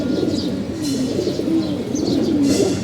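Several pet pigeons in a home loft cooing close by, low rolling coos overlapping steadily with occasional light chirps.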